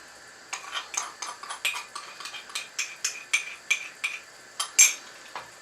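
A spoon rapidly stirs cornflour into sweet and sour sauce in a pan, making a close, brisk run of metallic clinks and scrapes at a steady rhythm, with no talking.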